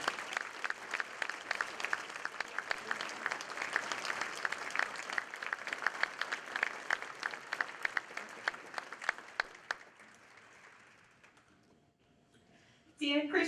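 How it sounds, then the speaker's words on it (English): Audience applause at a Rotary club gathering for a newly named Paul Harris member: steady dense clapping for about ten seconds, then fading to a quiet tail. "Please join me in a round of applause to congratulate our newest Paul Harris member,"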